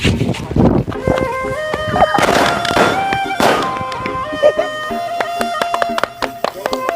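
Firecrackers go off in a rapid, crackling barrage at a 50th birthday celebration in Jaffna, with loud sharp bangs and ringing pops bursting close by, thinning out toward the end.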